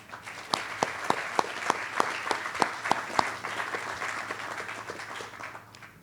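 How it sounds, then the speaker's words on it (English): Applause from an audience at a groundbreaking ceremony for a new emergency center, steady crowd clapping with a few sharp louder claps standing out, continuing for several seconds before tapering off, no talking over it. "Please recognize them with a round of applause."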